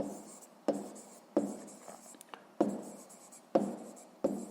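A pen scratches numbers onto paper for a sixth-grade maths exercise in repeated strokes, with each burst starting with a firm tap and trailing off, five or six in a row, close and quiet.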